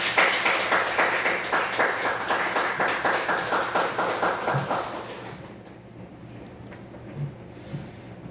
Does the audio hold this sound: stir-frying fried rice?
no